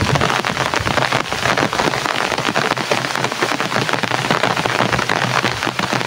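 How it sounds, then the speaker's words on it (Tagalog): Heavy rain pours steadily and loudly onto a surface, a dense, continuous hiss of drops with no break, close by and with no voices. "na malakas talaga ang ulan"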